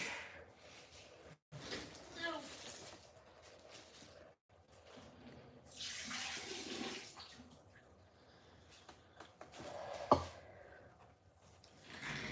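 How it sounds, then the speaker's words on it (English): A bucket of water being dumped while polishing a cab: splashing pours and sloshing come in bursts, with clunks and handling noise around them. "I gotta dump this bucket of water."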